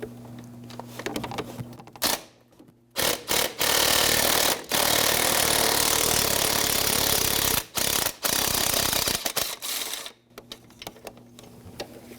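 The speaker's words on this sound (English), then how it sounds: "I'm using a 1-inch 3/8 extension and my 10mm swivel socket" A ratchet with a 3/8-inch extension and 10mm swivel socket works on an exhaust manifold bolt of a 1997-2006 Jeep Wrangler 2.4L four-cylinder, giving loud, close bursts of clicking with short pauses between.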